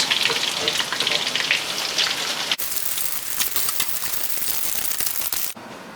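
Tofu frying in hot oil in a pan produces a loud, dense crackling sizzle, which drops to a softer sputter partway through and then cuts to quiet near the end.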